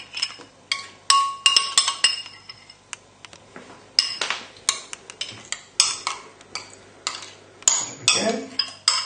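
A spoon clinks against a bowl while creme fraiche goes into a thick creamy lemon cheesecake mixture, giving quick, irregular clinks and taps, close and fairly bright, repeating throughout with short gaps.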